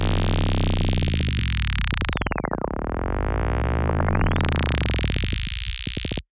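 Dense distorted tape-stop wub squashed through OTT multiband compression, its harmonic sweep diving down then rising back up over about six seconds, loud and continuous with a harsh screeching resonance high on top, ending abruptly.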